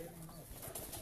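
Pigeons coo softly at close range, a low, rolling murmur that stays steady and faint throughout the short moment.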